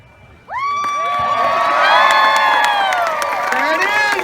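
A large crowd cheers, whoops and shouts at a circus-style fire performance show at the Ohio Renaissance Fair, erupting suddenly and holding loud and steady throughout, with children's shrieks mixed in.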